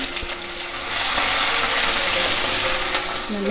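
Onions frying in oil with popped mustard and cumin seeds for a mushroom curry, giving a steady broadband sizzle that swells after the first second and holds loud and continuous, with no talking.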